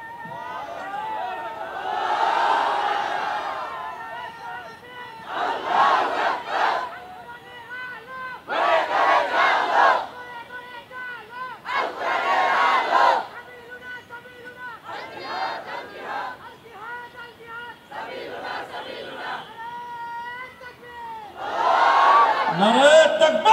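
Crowd of young men chanting Islamic slogans at a local gathering, unaccompanied voices rising in repeated call-and-response bursts separated by short pauses, loud and close with a room-like echo.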